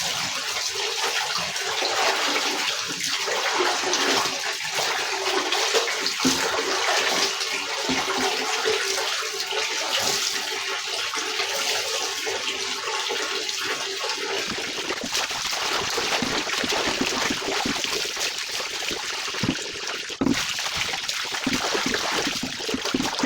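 Water splashes and runs steadily while clothes are washed by hand at home, a continuous wet churning with irregular sloshes that shifts to a thinner trickle and scattered drips partway through.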